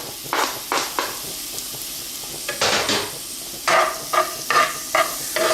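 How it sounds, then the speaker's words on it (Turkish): Chicken livers frying with onions in a pan for rice stuffing give a close, steady sizzle, broken by bursts of a utensil scraping and clattering against the pan as they are stirred, with no talking. "Şimdi tavamıza ciğerlerimizi de ilave ediyoruz"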